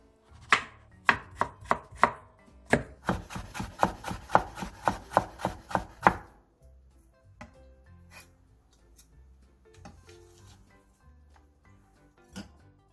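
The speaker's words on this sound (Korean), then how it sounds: "늙은 호박 한쪽에 껍질을 벗기고 속을 긁어낸 뒤 얇게 채 썰어주세요" Knife thinly julienning a peeled and seeded slice of aged pumpkin on a cutting board, a fast, steady run of crisp chopping taps that stops, followed by a few sparse, quieter knocks.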